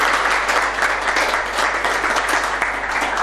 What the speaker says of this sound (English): Let us all give a big clap.